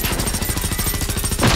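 Rapid automatic gunfire from a weapon in the video game Generation Zero, a loud, dense burst of closely spaced shots lasting the whole moment with no talking.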